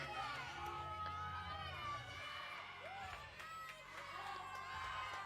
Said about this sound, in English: I love hearing the cheering in the background.